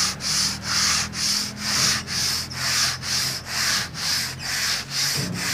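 Hand sanding of a wooden acoustic guitar top with fine sandpaper, a steady rhythmic rasp of about a dozen back-and-forth strokes along the grain, close and clear with no talking.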